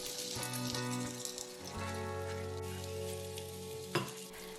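Oiled layered flatbread fries over medium-low heat in a pan, giving a soft, even sizzle throughout with a light tap near the end.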